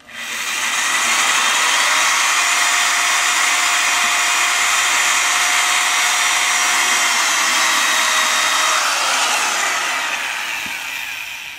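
A power drill whines continuously at high speed for about ten seconds while drilling a machete handle, loud and close, its pitch dipping slightly near the end as it winds down.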